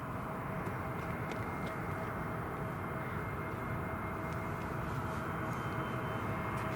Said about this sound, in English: Final aircraft of this part, Newcastle Airport, Part 2. British Airways A320